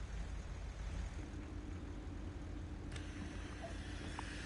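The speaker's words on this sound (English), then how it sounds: "This has got a really nice sound to it." Bus engine idling and running in the console driving game The Bus, a steady low rumbling drone with broad noise and a faint tonal hum, continuous and fairly quiet throughout.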